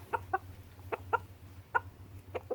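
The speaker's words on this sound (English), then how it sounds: "The attack rooster." A rooster clucks in short, separate bursts, about seven over a couple of seconds, close by with a low steady hum underneath.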